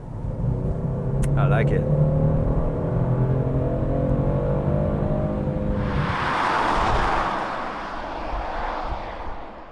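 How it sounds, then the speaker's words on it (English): A 2019 Genesis G70 with a twin-turbo V6 revs and accelerates hard, a loud engine drone that rises in pitch and then gives way to a rushing whoosh, while someone speaks briefly over it. "With launch control, it is very quick, and it is very happy to be revved."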